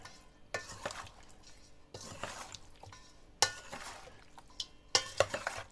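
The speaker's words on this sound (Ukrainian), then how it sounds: "Перемішуємо добре, щоб і сіль, і часничок, і перчик повністю розподілилися по всій масі." Pork head brawn mixture being stirred by hand with salt, garlic and pepper, giving wet, squelching mixing sounds in several bursts with occasional clinks from a bowl or container, near and fairly quiet.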